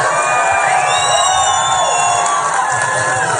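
A large political rally crowd in Las Vegas cheers and roars continuously, a dense sustained wall of shouting and whooping with no break.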